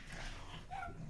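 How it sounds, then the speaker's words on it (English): Faint indoor sounds of dogs, including a dog named Odin, giving a soft whine and a short yip amid a low background hum in a room, with no talking. "Shut up, dogs."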